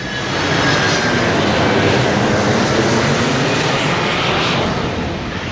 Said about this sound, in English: As you can hear, the planes are coming in, right?